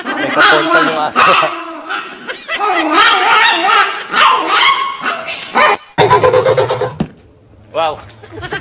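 A dog barks in short, loud bursts amid a busy mix of voices and other noise, with chatter running throughout and a brief quieter gap near the end.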